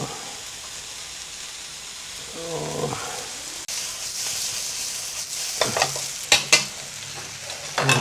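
Chow mein noodles with vegetables are stir-fried in a small pan, with a loud continuous sizzle, brisk scraping stirs, a couple of sharp clanks near the end, and a brief voice partway through.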